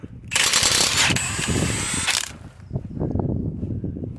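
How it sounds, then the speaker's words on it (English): A power tool undoes the 18mm bolts holding a van's ball joint in place, with a loud close whirring burst of about two seconds, followed by rattling mechanical clatter. "now to undo these bolts that are holding it in place. These are 18mm."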